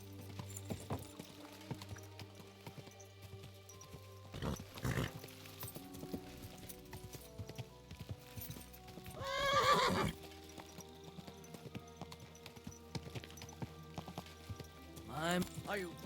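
In a video game, a horse whinnies and its hooves clop in short bursts over a quiet musical and ambient background, with a loud neigh standing out near the middle and a voice speaking briefly.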